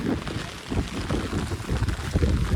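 Steady rain falls over a village farm field in Botad, a dense, even wash of patter with some wind buffeting close to the microphone and no talking.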